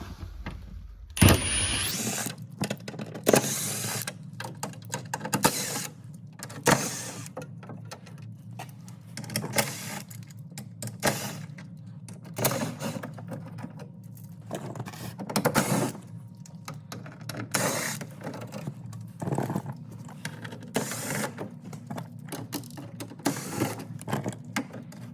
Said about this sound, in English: we're gonna start by removing this cover. It has about 12 screws.